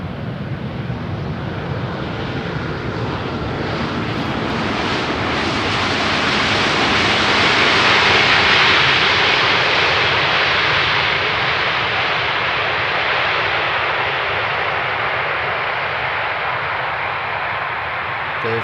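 An EasyJet Airbus A320neo arriving from Stansted lands on runway 18R at Amsterdam Schiphol, its jet roar swelling to a loud peak midway and then slowly fading as it passes.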